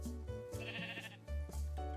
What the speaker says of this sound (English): Oh, there's a sheep. It's a brown sheep, though.